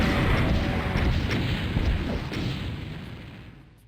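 A deep explosion in the video game Doom II, a heavy rumbling boom that swells at once and slowly decays over several seconds.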